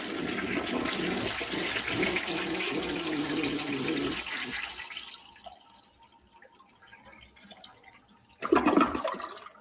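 Toilet flush plays as a sound effect: a loud rushing gush of water that drains away into quiet trickling and dripping, followed by a brief renewed surge near the end.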